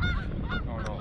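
Geese honking on a golf course, several nasal calls in quick succession, fairly close and clear, with no talk over them.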